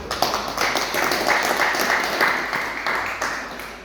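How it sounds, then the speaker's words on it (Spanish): An audience at a literary event applauds, a dense burst of clapping from many hands that stays steady and fairly loud before slowly thinning out. "Así que recibamos un fuerte aplauso a Percy Vilches."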